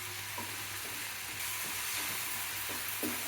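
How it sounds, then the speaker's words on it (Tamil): Onion and tomato sauté in a hot pan for a matar paneer curry, giving a steady close sizzle and hiss with soft scraping stirs at intervals and no talking. "இந்த தக்காளி வந்து அது தோலும் சத பகுதியும் தனித்தனியாக வர அளவுக்கு நல்லா வதக்கணும்"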